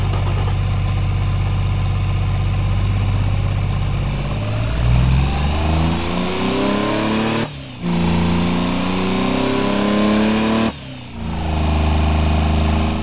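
A 420cc three-cylinder car engine in the video game Automation revs loudly and continuously, its pitch rising steadily, with two brief cutoffs near the top as it shifts or lifts before climbing again.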